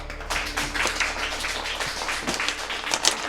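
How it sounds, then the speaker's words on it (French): A crowd applauds at the close of a baton-handover ceremony in a TV drama series: steady, moderately distant clapping that continues throughout, with no talk. "Applaudissez!"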